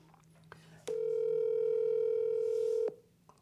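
A steady telephone tone sounds for about two seconds after a click while a phone number is dialed in a sales call setting, bracketed by soft clicks and quiet background.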